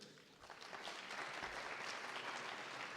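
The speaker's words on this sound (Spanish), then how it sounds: "un aplauso para ellos" Audience applause for the presenters at a video game talk, a steady, dense patter of many hands clapping, faint and distant, with no voices over it.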